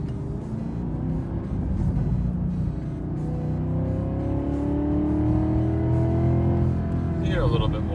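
A 2018 Cadillac CTS-V fitted with a new cold air intake accelerates, its engine droning loudly from inside the cabin with rising tones as revs climb, steady and close throughout.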